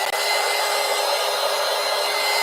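A dryer blows a steady, loud, close whooshing hum over a freshly pulled gel plate art print, running continuously and alone without any talking.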